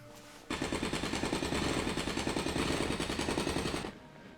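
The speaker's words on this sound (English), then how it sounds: "just getting out my jackhammer" Jackhammer in the video game ELEX: a loud, rapid, steady mechanical hammering that starts abruptly, runs for about three and a half seconds and cuts off.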